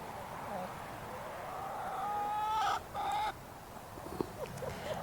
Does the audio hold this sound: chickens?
yes